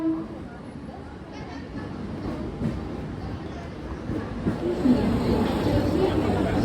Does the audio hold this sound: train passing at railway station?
yes